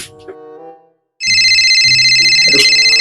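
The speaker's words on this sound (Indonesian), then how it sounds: "Telepon" A loud electronic telephone ring starts abruptly after a brief pause and continues steadily, with some faint background sounds underneath.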